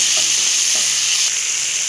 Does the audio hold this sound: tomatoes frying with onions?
yes